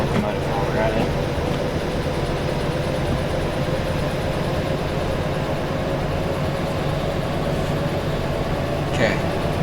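Locomotive powering up in Derail Valley, a steady loud diesel engine drone and rumble throughout, with faint clanks, and someone speaking over it.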